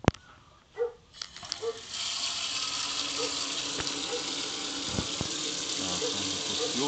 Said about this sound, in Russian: Сейчас открою еще горячую воду и посмотрим старт его.